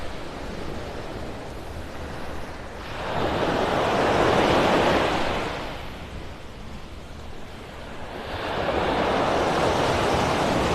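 Ocean surf on Vanderbilt Beach in North Naples, Florida: broad washing waves swell and recede in slow surges, two loud crests rising over a steady hiss of background surf, with no voices.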